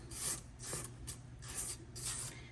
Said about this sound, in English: Now I'm just gonna scrape the sides.